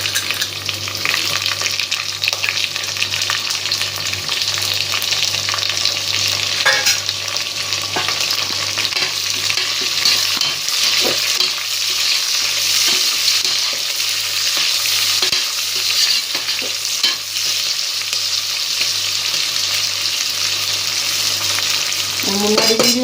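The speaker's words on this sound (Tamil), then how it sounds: "முன்னாடி வீடியோவில் சொன்ன மாதிரி ஆனியன் நல்லா ஃப்ரை ஆகணும் ஃப்ரெண்ட்ஸ்." Onions frying for biryani, a steady loud sizzle with stirring scrapes running throughout, alone without talk.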